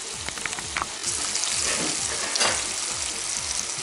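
Herring frying with vegetables in a pan, a steady close sizzle with soft crackles and a few light clinks, no talking.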